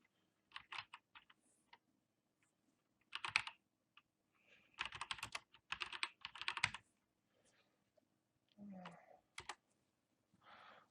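Someone types a command on a computer keyboard while setting up an Omega Coin masternode, with bursts of quick clicking keystrokes separated by pauses in a quiet room.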